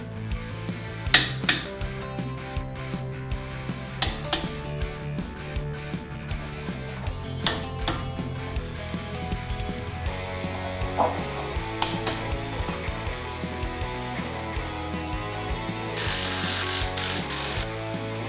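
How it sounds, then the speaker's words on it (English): A wrench clicks and ratchets while torquing the upper and lower strut bolts on a 2014 Ford Explorer XLT, irregular metallic clicks and clanks close by over a busy, noisy workshop background. "I'm torquing the upper and lower strut bolt to 130 pound-feet"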